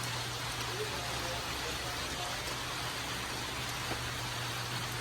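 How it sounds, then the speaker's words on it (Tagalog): Steady rain falls on a farm in an even, hissing wash, with a low constant hum underneath and no voices. "Umuulan na po dito sa amin."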